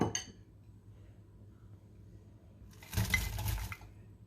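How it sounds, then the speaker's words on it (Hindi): Chopped onion tipped into hot oil in a pan for fish curry: quiet at first, then a short burst of sizzling and clattering that lasts under a second before fading. "अब हम इसमें प्याज शामिल करेंगे।"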